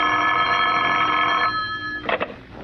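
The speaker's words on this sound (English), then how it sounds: "The phone call came at 9:30." An old landline telephone bell rings loudly in one sustained burst, then stops and is followed by a short clatter as the receiver is picked up.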